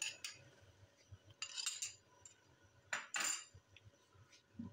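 A utensil whisks sour-free yogurt (curd) in a bowl, quiet scraping taps and clinks in uneven bursts, close and soft with no talking.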